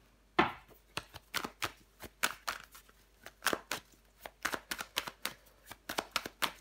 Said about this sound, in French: Je vais recouvrir les cartes.